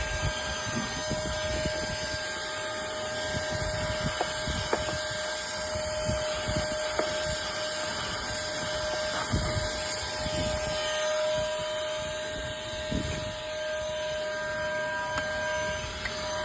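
A Wapasoo cordless vacuum cleaner runs continuously, a steady high-pitched motor whine with a strong rushing airflow hiss, close and loud throughout.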